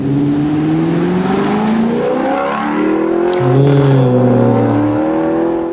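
An Alfa Romeo 8C sports car engine revving hard and close, loud sustained exhaust tone rising and shifting in pitch through several climbs, with no talking.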